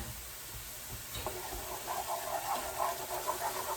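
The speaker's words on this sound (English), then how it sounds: "what I'm going to add to that is my chopped sun-dried tomatoes. And that stir in there." Chopped sun-dried tomatoes stirred into softened vegetables in a pan for a stuffed shells sauce, giving a soft scrape followed by a quiet, steady sizzle up close.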